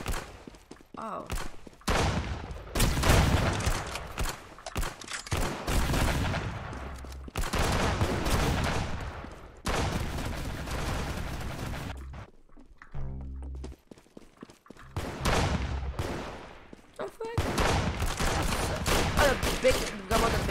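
Heavy video game gun fires in repeated rapid bursts with strong thumping reports, broken by brief pauses and a few quieter clicks and thuds across the stretch.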